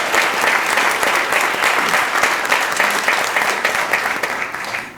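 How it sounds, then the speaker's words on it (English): People attending a school district board meeting give a round of applause for a student spelling bee winner, a sustained, even burst of many hands clapping that stays strong for several seconds. "Let's give her a round of applause."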